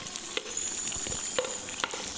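Mutton keema frying in a pan, with a steady soft sizzle and a few sharp stirring scrapes and clinks over about two seconds.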